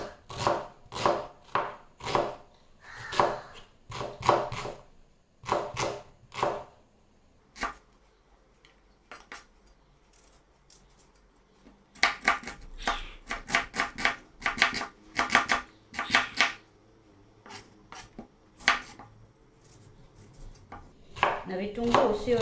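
Onions are chopped into cubes with a knife on a board in fast, close bursts of crisp repeated strikes, pausing briefly midway before the steady rhythmic chopping resumes, loud and near.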